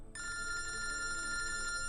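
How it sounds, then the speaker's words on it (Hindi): A telephone rings with a steady electronic trill, starting abruptly and continuing without pause, moderately loud over faint room noise. "फोन उठा, मेरा फोन उठा।"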